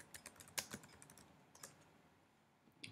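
Keys tapped on a computer keyboard in a quick uneven burst of close, crisp clicks, one stroke louder than the rest, with no talking.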